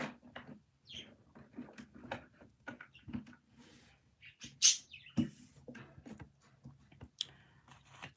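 Birds chirp back and forth in short, sporadic calls, as if squabbling. The calls are faint and scattered, with one sharper, louder chirp partway through and soft rustling between them.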